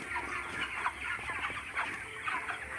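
A dense crowd of about 2,500 chickens on a poultry farm at night clucks and murmurs continuously, a busy overlapping chatter of many birds with no one speaking.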